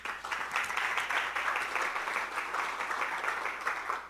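An audience applauds at an energy symposium at UT, steady dense clapping of a large crowd that holds for several seconds with no talking.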